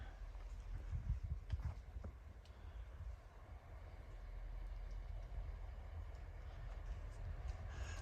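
A passenger train on a Devon branch line rumbles quietly with a low, steady roll, a few soft knocks and clanks early on, heard faintly from inside or nearby with no talk.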